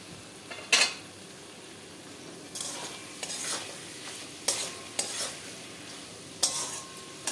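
Chicken skin with three slit green chillies and a little sugar fries over low gas, a quiet sizzle under a series of spatula scrapes and knocks against the pan, near and fairly soft, no voices.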